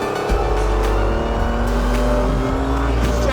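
A Renault RS01 race car at Silverstone runs flat out through a right-hand corner, its engine a loud, steady, close-up drone with shifting harmonics and a brief dip early on.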